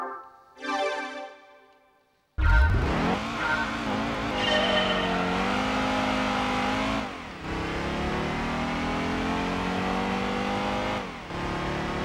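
Race car in Gran Turismo 2 roaring loudly at speed with engine pitch sweeping up and down, tires squealing under hard braking, after a short quieter engine burst at the start.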